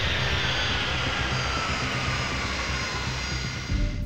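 The engines of a DHL cargo plane are throttled back to idle, giving a steady, broad roar that holds evenly throughout.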